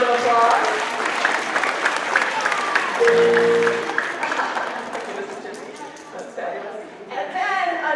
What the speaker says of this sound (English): let's give Mr. Chitsy, who's helping us on piano, a big round of applause.